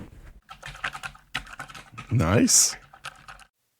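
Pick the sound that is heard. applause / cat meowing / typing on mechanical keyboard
typing on mechanical keyboard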